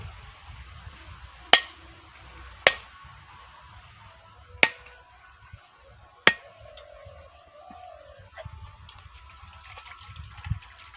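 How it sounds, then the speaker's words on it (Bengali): Coconuts are cracked open with sharp, hard blows, four loud separate strikes spaced a second or two apart, followed by faint trickling liquid and a softer tap in a quiet setting. "এবারে আমি নারকেলগুলোকে ফাটিয়ে নেবো"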